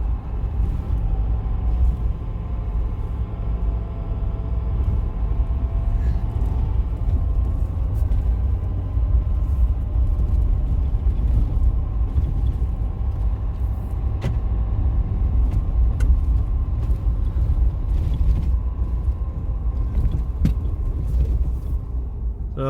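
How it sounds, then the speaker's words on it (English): A car drives across open ranch land in far west Texas, giving a steady, loud, low rumble of engine and tires over rough ground. The rumble stays constant throughout with occasional light rattles. "we're still on the Timeline Ranch, driving across the north 40 acre section"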